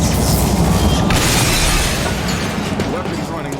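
A heavy explosion in the video game XCOM: Chimera Squad bursts with a loud boom, then crackling debris and rumble trail off while a voice talks over it.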